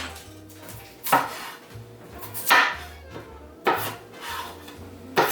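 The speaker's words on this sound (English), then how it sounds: "I'm just going to chop these up and put them on my pan" Red potatoes chopped on a board, four spaced heavy knife thuds about a second apart, close and clear with a faint background hum and no talking.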